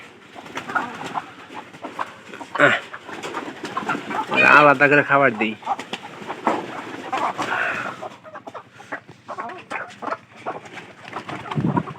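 Pigeons close by, a run of soft throaty coos with a louder burst of calls in the middle, under and between a person speaking.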